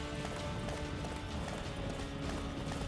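A horse gallops in the Attack on Titan video game, its rapid hoofbeats pounding steadily and close over a dense rumbling background with no talk.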